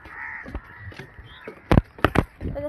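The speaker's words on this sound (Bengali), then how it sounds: "সব পাখিরা এত ডাকছে কেন?" Crows caw several times in sharp, close bursts, mostly in the second half, with other bird calls faintly behind during a rainy morning walk to school.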